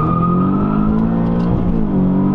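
Big-turbo Audi S3 with an aftermarket downpipe held on the brake under launch control, engine revving hard to around 4,000 RPM as the turbo spools; a loud, steady, close-up drone throughout.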